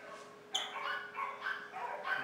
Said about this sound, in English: It's a Westie.